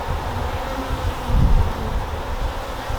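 Honey bees buzz steadily during a brood box inspection with nurse bees on the frames, a close, continuous droning hum that swells briefly in the middle, with no voices.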